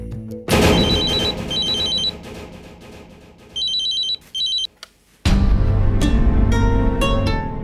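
An electronic phone ring sounds in short repeated trills between swells of loud dramatic music, briefly dropping away before the music surges back.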